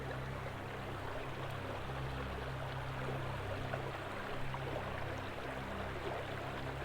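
Prairie Creek runs under a bridge amid redwood greenery, a faint, steady rush and babble of flowing water that continues evenly throughout with no voices.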